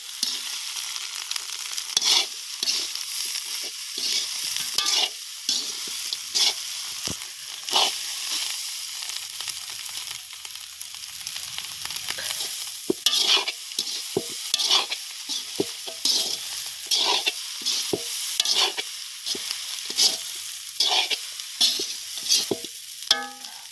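Shredded idiyappam is stir-fried in a hot pan for kothu. A spatula scrapes and tosses steadily and rhythmically against the pan over a constant close sizzle, with no voices.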